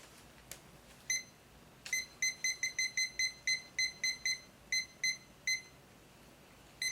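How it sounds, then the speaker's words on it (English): A timer emits a series of short, bright electronic beeps in quick, slightly irregular bursts while being set during a business case competition, in a quiet room with no talking. "Just give me 1 second to set the timer for the Q&A."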